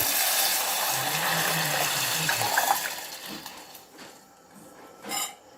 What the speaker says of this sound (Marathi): आपण यामध्ये डायरेक्टच हा मगाशी ठेवलेले सूप घालून घेऊ